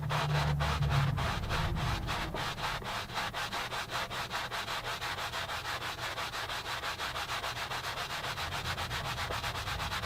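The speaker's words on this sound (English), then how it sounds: "After a minute or less of sanding, we've got a nice even shaped brace." Sanding a wooden acoustic guitar brace by hand gives rapid, regular rasping strokes, close and steady throughout, with a brief low hum at the start.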